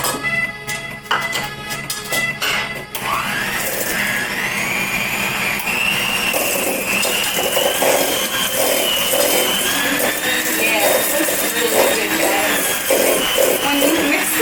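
An electric mixer beats butter and sugar together for vanilla cupcakes, whirring steadily and loudly after a brief rattling start, with a continuous grinding hum throughout.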